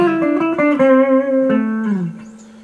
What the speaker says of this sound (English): So we're going to do these licks in A pentatonic minor